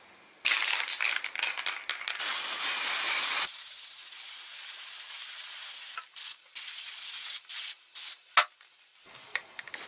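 Spray glue or white paint sprayed from a can onto a tissue for a Halloween craft: a long continuous hiss, then a run of short bursts of spraying with brief pauses between them, close and fairly loud.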